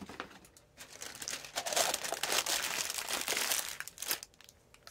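Parchment paper crinkles and rustles steadily for several seconds as it is pressed over the mouth of a tincture jar, close and fairly loud, with no talking.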